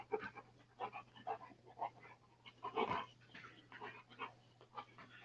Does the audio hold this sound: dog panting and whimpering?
yes